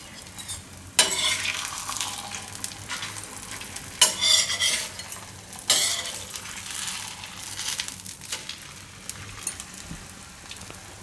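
A radish paratha cooks in ghee on a hot pan, with a steady close sizzle and occasional sharp scraping and stirring clatters from a utensil.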